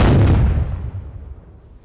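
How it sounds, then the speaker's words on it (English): The Columbus Blue Jackets cannon fires a single loud boom up close, its heavy blast followed by a long decaying rumble that fades away over about two seconds. "Sound the cannons, Columbus."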